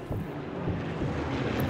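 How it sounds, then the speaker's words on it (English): Warplanes fly overhead in Sniper Elite 4 with a brief, loud, rumbling roar of aircraft engines that stays steady and heavy throughout, with no talk over it. "here comes the planes, right?"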